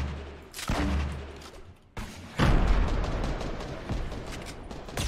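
Gunfire in the video game Fortnite comes as loud sharp bursts of shots, with a short pause in the middle and then a sustained rattle of rapid fire that fades over several seconds.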